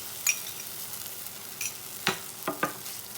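Golden-brown onions with ginger garlic paste fry in a pan for a drumstick and potato curry, making a soft continuous sizzle broken by a few sharp scrapes and stirs up close.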